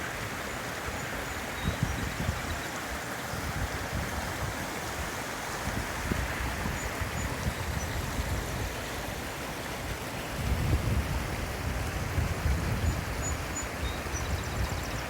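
Steady rushing of a flowing creek, continuous and fairly close, with a broad watery hiss and no talking.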